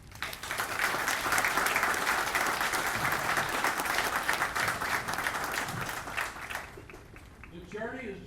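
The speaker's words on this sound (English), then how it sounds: "let's give yourself a round of applause for everything that you've done for these men and" A graduation audience at a 326th Training Squadron Air Force basic training ceremony bursts into sustained applause, a dense wash of many hands clapping that fades out after several seconds, with a voice speaking over it near the end.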